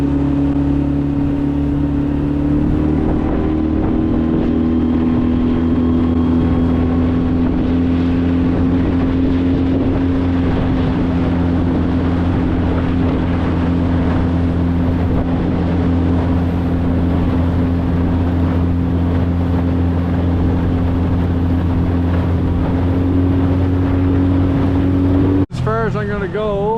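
A small motorboat running out at sea off Newfoundland's Iceberg Alley, its engine droning loud and steady with a rising pitch, buffeted by wind noise, and a sharp knock near the end.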